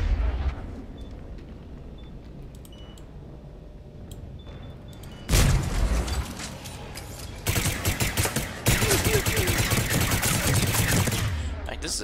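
Gunfire erupts in the Mass Effect 3 video game, with sporadic faint shots followed by sustained loud bursts of automatic fire and blasts.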